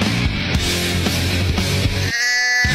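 Goat bleating in a farm setting, a sustained wavering call holding steady, with a second fainter animal cry breaking in near the end; close and loud, no talking.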